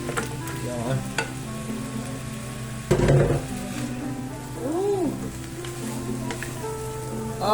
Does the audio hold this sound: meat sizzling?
yes